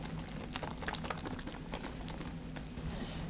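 Cheesecake batter of fromage blanc, flour and cream is stirred in a bowl, with soft, quiet, irregular wet clicks and squelches repeating through the short moment.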